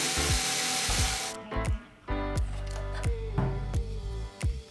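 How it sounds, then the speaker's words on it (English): A small power driver sets metric 3x10mm screws into 3D printed parts of a 1/10 scale BMW M4 G82 RC car body, giving a string of short whirring bursts with pauses between, close and clear. "attach this piece to the front splitter on the body using metric 3x10mm screws"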